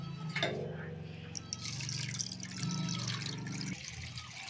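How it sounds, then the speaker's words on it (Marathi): About a full jug of water is poured into a kadhai of washed moong dal, set for cooking on a village wood-fired stove. It makes a continuous close splashing gush for nearly four seconds, then stops abruptly. "आणि आता याच्यात पाणी टाकलं डायरेक्ट शिजायला टाकायचे ना"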